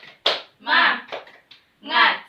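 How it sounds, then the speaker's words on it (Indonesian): A class of schoolchildren performs a rhythmic spirit clap, sharp bursts of hand claps alternating with chanted voices in a quick patterned sequence, close and lively. "Tepuk semangat."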